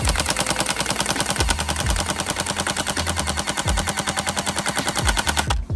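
A mini AK47 gel blaster empties a full magazine into a wall on full auto, a long, fast, steady stream of close, sharp mechanical cracks that stops abruptly at the end.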